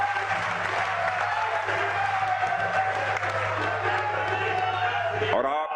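An audience at a political event in Haryana gives sustained applause welcoming a young chief minister, dense clapping filling the whole stretch over a steady hum before stopping abruptly at the end.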